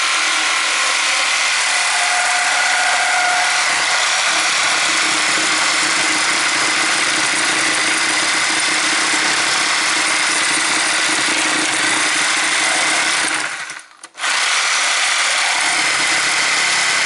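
A reciprocating saw fitted with a new blade cuts into white oak, a loud, steady buzzing drone that runs continuously and cuts out briefly near the end before resuming.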